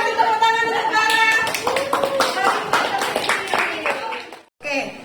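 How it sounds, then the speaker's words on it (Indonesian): Students in a classroom lesson clap together for a classmate in a quick, bright burst of many hands, mixed with children's chatter and laughter, fading near the end before a short final voice. "Kasih tepuk tangan untuk Clara."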